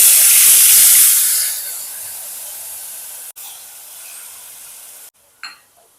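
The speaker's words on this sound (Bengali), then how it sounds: "এবার আমি এই পেস্টটা দিয়ে দিচ্ছি জিরে আদা কাঁচা লঙ্কা এবং টমেটো" Cumin, ginger, green chili and tomato paste hitting hot oil give a loud burst of hissing sizzle that quickly settles into a steady softer fry, broken by a couple of brief gaps near the end.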